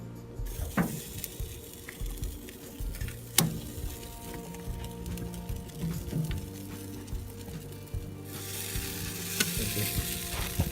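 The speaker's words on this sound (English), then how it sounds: "We're going to get these drumsticks on here, right over the hot grill to the charcoal" Chicken drumsticks sear over direct heat on a charcoal grill, giving a soft, steady sizzle with scattered crackles and pops, fairly quiet and without talk.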